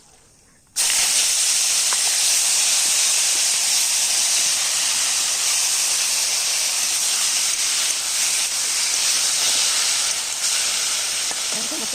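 Small raw fish coated in oil and salt dropped into hot oil in a wok, a sudden loud sizzling hiss that starts abruptly and continues steadily without letup.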